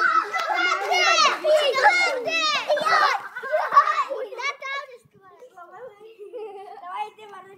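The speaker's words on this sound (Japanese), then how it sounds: "ちょっと今、鬼ごっこのようなゲームを子供たちがしています。" Children shout and squeal in high excited voices while playing tag at a school, loud and close at first, then fading to quieter calls.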